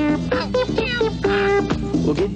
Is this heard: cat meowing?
yes